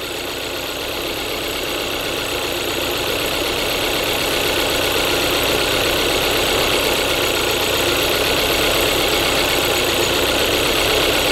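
A Kia Soul engine with a low-power, stalling-at-stops fault idles steadily with all four ignition coils firing, giving a loud, continuous close-up running drone with a fine, even rhythmic texture and no talking.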